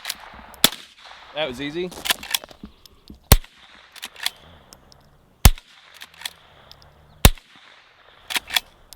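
Sharp, isolated cracks from a Golden Boy Silver .22LR rifle being fired while plinking outdoors, about eight separate shots spaced a second or two apart, with brief talking in between.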